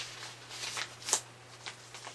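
A sheet of memo paper being folded for a beginner children's magic trick gives soft crinkling and rustling bursts close by, with one sharper crisp crease midway and no talking.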